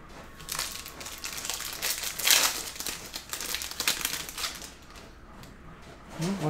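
A jumbo pack of Topps Chrome baseball cards ripped open by hand, close crinkling and tearing of foil wrapper in uneven bursts, loudest near the middle, then softer rustling of the cards.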